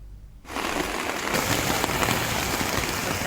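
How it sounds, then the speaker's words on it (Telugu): Heavy rain starts abruptly at Tirumala hill during a cloudy May spell, a dense, loud hiss of downpour on surfaces that holds steady after a quieter opening moment. "కాసేపు కుండపోతగా వర్షం కురుస్తోంది."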